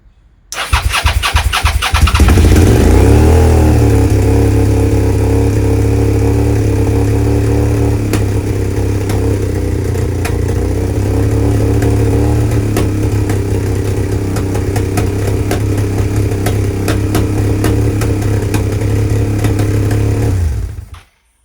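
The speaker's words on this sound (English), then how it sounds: "Started a bit noisy, a lot of backfiring." A Suzuki SV650S motorcycle engine cranks and catches with a burst of sharp pops, then settles into a loud, steady, slightly rough idle with occasional backfire cracks for about twenty seconds before cutting off.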